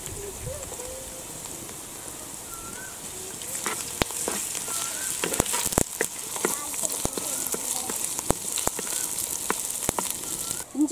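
Onions with ginger garlic paste sauté in hot oil for a quail gravy, giving a steady close sizzle and crackle broken by sharp clicks of stirring.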